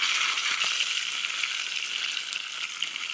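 A trout sizzles and fries steadily in a hot pan, a dense, even crackle of fat with small pops, close and continuous with no talking.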